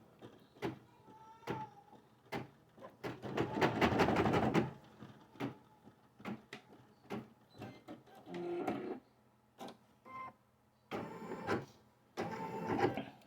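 A marking machine works the other side of a pen holder with a series of mechanical whirs and clunks, a long buzzing burst, then short bursts of motor noise and clicks separated by pauses, close and moderately loud.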